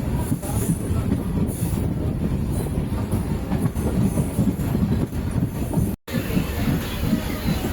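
A MEMU passenger train crowded with riders rolls along with a loud, continuous rumble and faint wheel squeal, briefly dropping out for an instant before the roar resumes.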